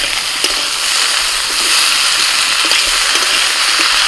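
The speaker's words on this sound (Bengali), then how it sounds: "2 থেকে 3 মিনিট আলুটাকে একটু ভেজে নিয়ে এবার এর মধ্যে দিয়ে দিচ্ছি মাশরুম" Potatoes and mushrooms frying in a pan make a loud, steady, dense sizzle that continues unbroken, with faint scrapes scattered through it.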